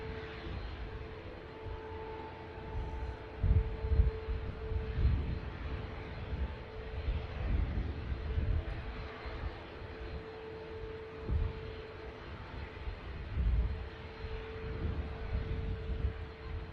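Atlas Air Boeing 747 taxiing at Manchester Airport, a low, distant engine rumble with a steady whine above it that swells and fades in slow surges.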